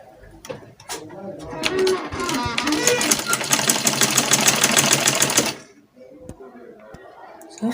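A sewing machine stitches a fabric sleeve for a two-in-one sleeve garment in one loud, steady, fast-buzzing run of about four seconds, framed by brief quiet handling sounds before and after.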